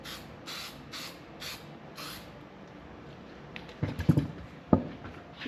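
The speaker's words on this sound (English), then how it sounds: "spray a little bit of this spray glue on here" Five short hissing bursts from a can of spray glue in a steady rhythm, followed by a few light clicks and taps nearby.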